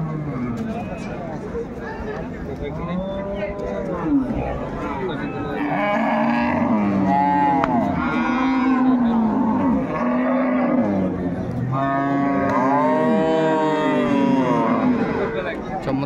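Deep, drawn-out moos from a dairy cow at a crowded cattle market in Dhaka, loud and close, repeating several times while people talk in the background.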